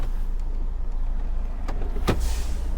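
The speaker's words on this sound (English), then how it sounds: "Car past." A car drives past close by on a road, a brief rising whoosh near the end over steady low engine rumble and background noise.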